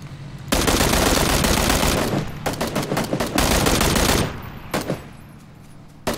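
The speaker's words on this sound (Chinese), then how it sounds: "那前面有枪声" Heavy automatic gunfire in a battle royale shooter game, sustained loud bursts of rapid shots with brief gaps, closing on a few scattered single shots, no talk.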